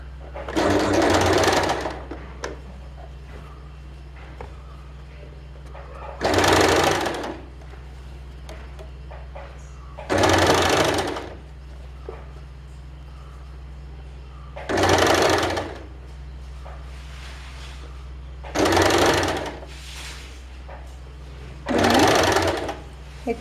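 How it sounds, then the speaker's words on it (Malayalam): Sewing machine stitching a nighty, running in six short bursts of steady whirring separated by pauses, with a low hum underneath throughout. "ഇതൊന്ന് തയ്ച്ച് കൊടുക്കാം."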